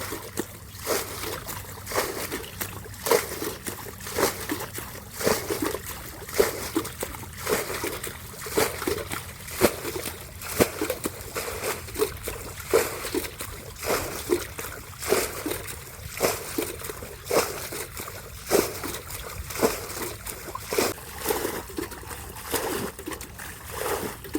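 Steady splashing and sloshing of water flowing into a paddy field, with repeated trickling pulses, close by and continuous, with no voices.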